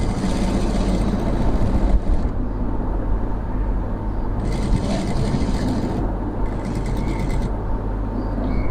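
A sewing machine stitches a shirt armhole, a steady low motor hum with continuous mechanical whirring that runs throughout, briefly rising and falling in intensity.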